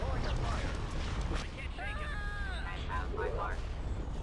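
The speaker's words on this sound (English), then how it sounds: "Oh my gosh, look at all those explosions," Space battle in a Star Wars strategy game with capital ships: a steady, dense rumble of explosions and gunfire, with swooping laser-like tones sweeping past in the middle.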